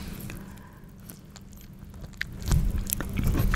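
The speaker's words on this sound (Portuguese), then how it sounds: "Tá mastigando alguma coisa." Someone chews something near the microphone, with soft wet biting and mashing at first that builds into louder, crunchier chomps toward the end. No one speaks.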